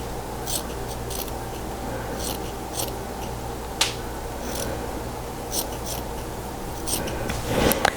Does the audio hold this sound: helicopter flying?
no